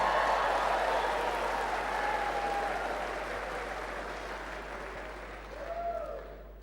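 Audience applause at a church leadership talk in Fiji, a steady broad wash of clapping that slowly fades, with a brief swell near the end.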